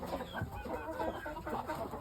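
Pure Shamo pullets in the UK cluck in quick, overlapping bursts, close and steady, with no talk.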